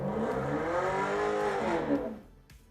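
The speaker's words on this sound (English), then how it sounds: "apologies for the motorcycle noises." A motorcycle passes outside, its engine note rising and then falling as it goes by at moderate distance before fading away.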